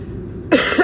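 A person with a lingering chest cough gives two quick, close coughs in succession after a moment of near silence.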